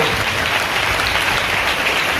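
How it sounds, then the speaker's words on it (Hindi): A church congregation claps loudly and steadily in thanks to the Lord during a Hindi sermon, a continuous roar of many hands with no gaps. "ऐसे लोगों के लिए ताली बजाएंगे प्रभु को धन्यवाद"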